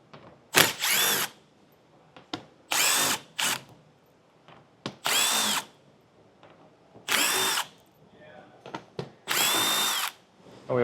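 Power drill fitted with a 7mm socket running bolts out from the underside of a 2022 Chevrolet Equinox, five or six loud whirring bursts separated by short pauses and small clicks, no talking.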